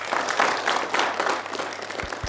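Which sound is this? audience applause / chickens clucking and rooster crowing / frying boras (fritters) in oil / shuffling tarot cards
audience applause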